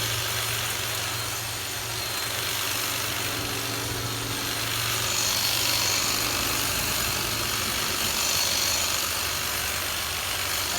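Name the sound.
Kobalt 24v cordless electric hedge trimmer running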